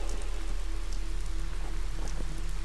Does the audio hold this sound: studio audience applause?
no